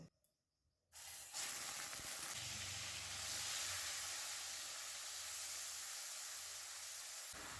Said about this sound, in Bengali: বড় সাইজের একটা পেঁয়াজ বেটে নিয়েছি, সেটা গ্যাসটাকে মিডিয়াম ফ্লেমে রেখে 2 মিনিট ভেজে নেব।